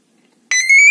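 A car alarm set off by a cloned remote's first button: silence, then a sudden loud, sustained electronic siren tone with bright harmonics, steady and close.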